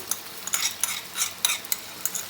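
Bursts of scraping and stirring of blended chili paste in a hot pan over low heat, repeated every half second or so over a soft sizzle, with no talking.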